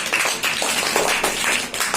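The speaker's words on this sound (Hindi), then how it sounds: "गुड जॉब, शाबाश, बच्चों की तालियां बनती हैं।" Schoolchildren clapping in a classroom during an English grammar lesson, a short burst of many small hands clapping together, close and fairly loud with no talk.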